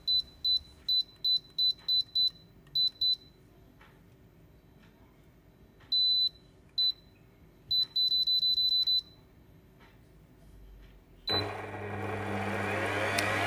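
A CHEFREE M500 multifunction stand mixer gives a series of sharp electronic beeps from its touch controls, then its motor suddenly starts with a loud, steady whir for the last couple of seconds.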